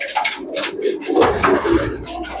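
Soft pigeon coos, several low throaty calls one after another, fairly close, with a light background hiss.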